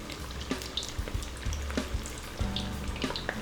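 Lumpia wrappers browning in hot oil give a steady sizzle with crackling pops and a few soft scrapes and clinks of a utensil, close and continuous.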